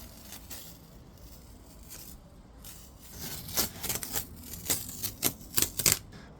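Painter's tape being peeled off a newly painted wall in an off-grid cabin, soft tearing at first, then a run of sharp, crackly rips close by.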